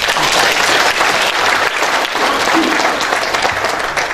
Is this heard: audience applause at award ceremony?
yes